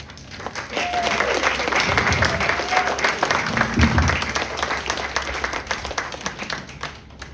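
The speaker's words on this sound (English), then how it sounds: "Please give a loud applause to welcome Elbina." A crowd at a writers-of-color poetry reading at Santa Cruz's Museum of Art and History applauds warmly to welcome a reader, with sustained clapping and a few voices murmuring faintly underneath.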